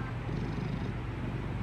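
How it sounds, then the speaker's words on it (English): A large male cat purrs loudly and close, a low rumbling throb that continues steadily and alone through the short moment. "He purrs so loud,"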